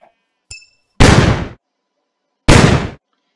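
Minecraft gun mod flashbang going off among chickens in a video game: a brief click, then two loud, harsh bursts about 1.5 seconds apart, each a broad crackling blast that fades quickly into silence.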